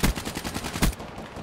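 Gunfire in the shooter Call of Duty: Black Ops 3, a close, loud burst of rapid automatic shots with a heavier punch at the start and again near the end, then cutting off into quiet.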